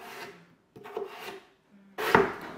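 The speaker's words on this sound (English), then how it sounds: "I normally just cut up some potatoes or some russet potatoes and get those all diced up" A knife cuts russet potatoes into pieces for french fries, giving three short bursts of board knocks and slicing scrapes separated by brief pauses, close up with no talk.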